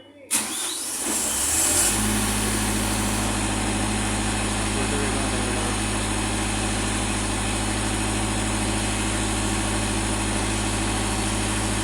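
A generator run by a DeepSea 720 controller cranks and catches within about two seconds, then settles into a steady, loud idle with a deep, even hum that continues alone.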